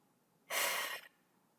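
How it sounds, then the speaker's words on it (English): A single deep inhalation taken as part of an EFT stress-relief exercise, a breathy rush lasting about half a second, close and clear in an otherwise quiet room. "Take a deep breath."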